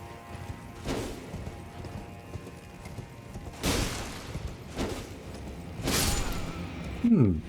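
Irregular hoof clip-clops from a horse in Elden Ring, with a few louder bursts and a short whinny-like sound at the end, heard at moderate volume amid game noise.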